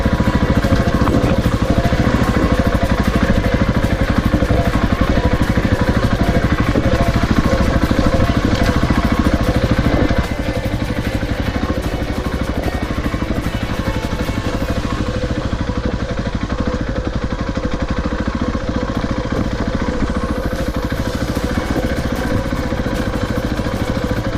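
Motorcycles on an adventure ride drone steadily, a loud continuous engine roar mixed with wind rumble and road clatter, close and unbroken throughout with no voices.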